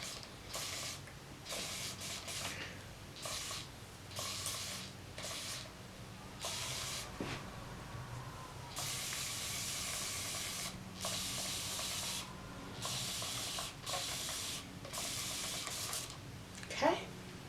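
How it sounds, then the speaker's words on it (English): A spray bottle mists water onto locs before retwisting, giving repeated short hissing bursts in an irregular rhythm, close and moderately loud, with pauses between sprays. "So I'm just going to lightly mist it now."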